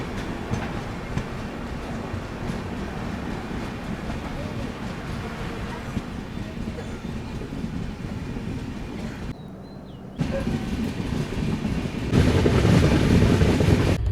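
The Madgaon Rajdhani express train rushes along at 110-120 km/h with a constant, dense rumble and rattling wheels, briefly dipping before returning louder and closer.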